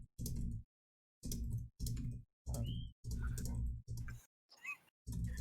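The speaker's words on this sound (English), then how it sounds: "I'm just typing! Very loudly." Loud, hard typing on a computer keyboard comes in sharp clustered bursts of clicks separated by short silences, close and clear, with a faint voice briefly in one gap.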